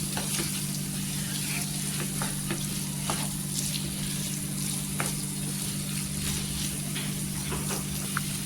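Spice masala sautés in hot oil for a soybean, potato and cabbage dish, a dense continuous sizzle over a steady low hum, with faint scattered clicks of stirring and no speech.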